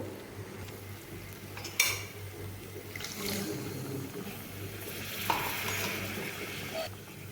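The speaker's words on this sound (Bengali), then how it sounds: "এবার আমি এখানে অল্প পরিমাণ জল অ্যাড করব" A spoon mixes a little water into bottle gourd curry in a pot, making soft, close scrapes and a gentle bubbling sizzle, with a couple of louder knocks against the pot.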